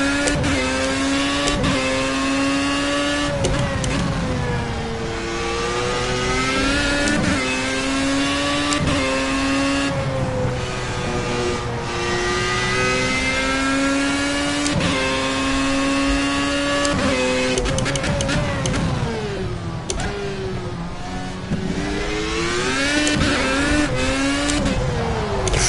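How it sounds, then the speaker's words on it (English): A Formula A race car in the Project CARS video game revs hard and steadily throughout, its engine note rising and dropping with repeated quick gear changes and throttle blips, loud and continuous with no talk. "I actually lifted off, went up to third, gave it a blip of throttle, lifted off again, and that's what caused the spin"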